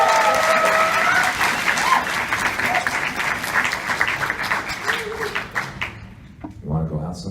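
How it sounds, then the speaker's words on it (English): A Comic-Con voice-over panel audience breaks into loud, dense applause that holds steady for several seconds, then thins and fades as a voice starts speaking near the end. "Let's get a round of applause to start us out."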